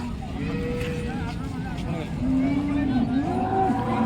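At an outdoor cattle market in Modnimb, a cow lets out a long, close moo amid the chatter of people talking nearby.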